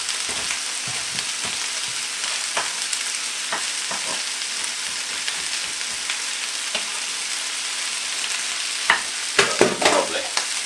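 Garlic fries in a hot pan with a steady, dense sizzle, stirred now and then with soft scrapes and taps, close and continuous with no talk.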